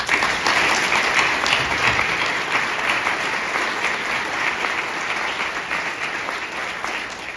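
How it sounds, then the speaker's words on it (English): An audience at an AICPA chair ceremony gives a round of applause for Jackie. The clapping is sustained, full and loud, tapering only slightly over several seconds with no talk over it. "a round of applause for Jackie."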